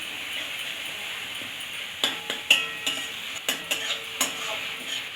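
Pea greens and ginger paste being stirred in a hot pan, a steady soft sizzle broken by several sharp clinks and scrapes of a utensil against the metal, close and clear with no voices.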